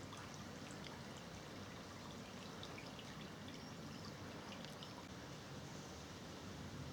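A small Wealden stream tributary with a little water in it trickles steadily in the countryside, a soft continuous burble under faint outdoor ambience with no talk.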